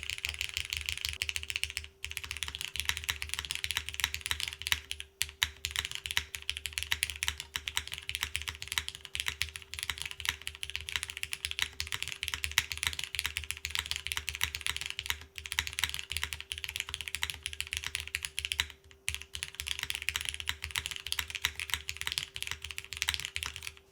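Steady fast typing on a Toro60 mechanical keyboard, top mount with a palm plate, Nixie switches and GMK keycaps, a dense stream of close, crisp clacks with occasional brief pauses.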